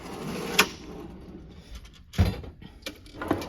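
A Snap-on tool box drawer is pulled open in a workshop, giving a few sharp metallic clacks and a sliding rumble, with short quiet gaps between them and no talk.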